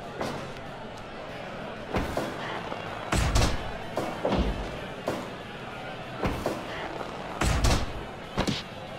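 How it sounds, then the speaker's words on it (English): A wrestling video game match in which a powerbomb slams an opponent to the mat, with a series of heavy, booming thuds and impacts landing at irregular intervals amid crowd-like background noise. "Power bomb!"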